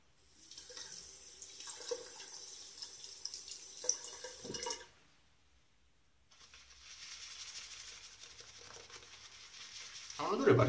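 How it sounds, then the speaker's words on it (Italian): Water from a tap runs into a plastic shaving bowl in two short bursts, a brief trickle and splash at close range with a quiet pause between, followed by a louder clatter at the end; no talking. "Oggi ciotola in plastica a cui vado a mettere un pochino d'acqua dentro."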